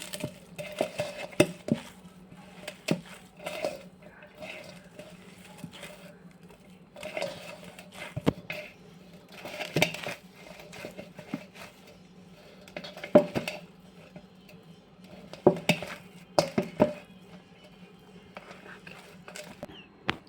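Spoon clinks and scrapes against a bowl as leftover rice cutlet mixture with salt is stirred, an irregular series of light metallic taps and soft stirring, fairly quiet.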